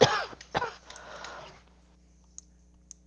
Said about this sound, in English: sorry, I didn't mean to cough on you guys here.